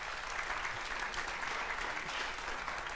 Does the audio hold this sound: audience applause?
yes